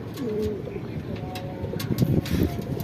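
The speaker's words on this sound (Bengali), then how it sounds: "এখানে সবগুলাই আপনার শাহজাহানপুরি কবুতরের বেবি" Young Shahjahanpuri pigeon chicks coo softly in short, low murmurs at close range, with faint background voices and rustling.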